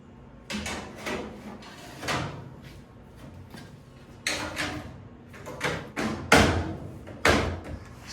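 A door is shifted back and forth during hinge alignment, giving a series of irregular knocks, thumps and scraping bumps close by, some louder than others, with no talking.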